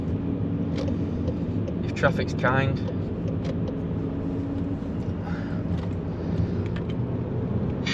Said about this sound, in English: let's go and have a listen to this exhaust, see if it sounds any different